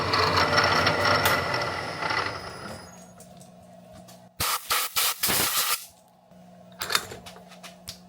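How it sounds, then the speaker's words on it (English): A drill bores holes through the steel handle of a handmade knife, starting with a sustained grinding whine, then a quiet gap, then several short, loud bursts of cutting close by. "drill some holes for the handle"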